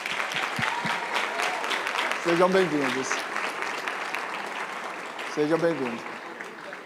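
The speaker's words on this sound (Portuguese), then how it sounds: "Vamos aplaudir a ousadia dessas pessoas" Audience at an evening church gathering applauds, steady clapping throughout that swells slightly, with someone speaking over it and a few sung or held vocal tones rising twice.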